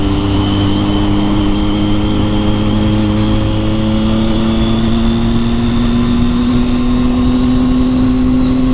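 A Triumph 675 three-cylinder motorcycle exhaust holds a loud, steady, droning idle with a gently rising pitch. The engine is close and constant, with no voices.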